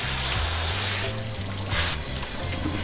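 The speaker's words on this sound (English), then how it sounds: "Since these guys are really bloody and, and gutty and I don't want any scales, I'm gonna rinse them off." Running water splashing steadily over raw, bloody menhaden bait fish being rinsed of scales and guts under a tap, a continuous close hiss and spatter with brief surges.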